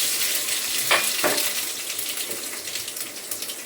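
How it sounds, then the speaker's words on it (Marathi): Mustard seeds, cumin and crushed garlic sizzle in hot oil for a Marathi-style vegetable dish, a steady close frying hiss with a couple of brief sharper crackles near the start and no voices. "इथं थोडी मोहरी घातली, थोडंसं जिरं, लसूण चेचून ठेवला आहे"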